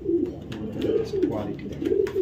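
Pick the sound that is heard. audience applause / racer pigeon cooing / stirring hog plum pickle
racer pigeon cooing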